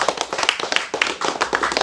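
A group claps hands in quick, uneven bursts, loud and close, with no talking over it.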